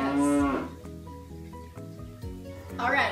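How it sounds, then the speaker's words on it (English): Cattle moo loudly in long, harmonic calls at the start and again at the end, with quieter lowing and farm ambience in between. "Now look at this footage of cows."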